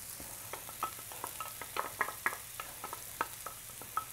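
One red onion sizzles gently in olive oil, with a soft continuous fry broken by scattered crackles and pops, quiet and close with no talking.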